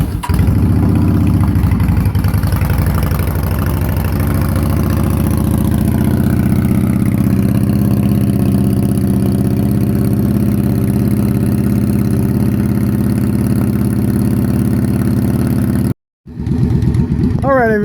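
A 2008 Yamaha V-Star 650 motorcycle idles steadily at close range with a low, loud, even engine rumble, cutting out abruptly near the end before briefly catching again.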